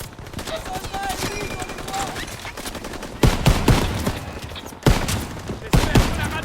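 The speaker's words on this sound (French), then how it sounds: "On tire dessus!" A World War II battle in the Ardennes, Belgium, fills with loud, dense gunfire: rapid bursts and volleys of rifle and machine-gun shots over constant battle noise, with soldiers' voices shouting in between.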